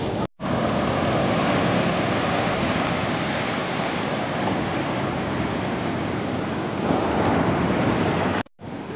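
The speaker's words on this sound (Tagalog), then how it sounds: "Lakas ng alon" Strong ocean waves surge onto an island shore in a dense, roaring wash that runs almost unbroken and fairly loud, mixed with wind buffeting the microphone.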